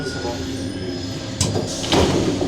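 A Paris metro train door slides open at Réaumur–Sébastopol station, a brief mechanical whoosh and thud rising over the steady hum of the stopped train, followed by a second sharper clunk as the doors finish moving.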